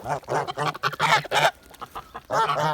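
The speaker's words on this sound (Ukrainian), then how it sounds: "Ось це гусак." Several geese of the Kholmogory breed honking loudly and close up, a run of harsh nasal calls with short pauses between them and no talking.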